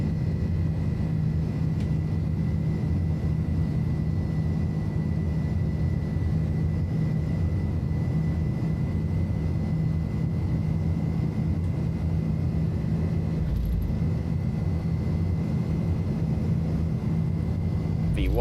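Airbus A310 jet engines in Microsoft Flight Simulator 2020 hold a continuous loud low roar with a steady tone on top during the takeoff run from Dublin, unbroken for the whole stretch.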